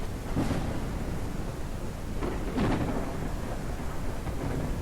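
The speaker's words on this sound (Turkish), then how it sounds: "Abi şimşek sesi çok gürültülü ya." Thunder in the video game Ranch Simulator rumbles loudly and continuously, with heavier rolls rising out of a dense, noisy storm wash.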